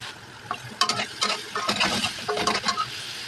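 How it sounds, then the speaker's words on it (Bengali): Soya chunks fry in a pan with a soft sizzle, stirred now and then with a utensil that makes scraping and light clinking sounds, close and fairly quiet, with no voices. "সয়াটা একটু আমি কিছুক্ষণ ভাজা ভাজা করে নিই।"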